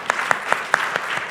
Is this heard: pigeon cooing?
no